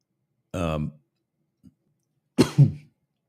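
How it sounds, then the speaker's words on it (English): Two sharp, close coughs separated by a short pause, with a tiny click between them and no talking. "sorry, these coughs just, come up out of nowhere."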